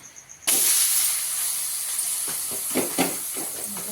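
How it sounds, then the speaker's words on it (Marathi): Mixed-flour thalipeeth (dhapate) hits a hot griddle with a sudden loud hiss that settles into a steady close sizzle, with a few crackles and pops. "गरम तव्यावरती आपण दुसरी एक थालीपीठ भाजून घेऊया."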